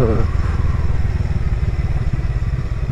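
Honda Rebel 500 (2020) motorcycle rolling and slowing on the rear brake, its engine a steady, loud, low rumble with a clattering pulse throughout, close by.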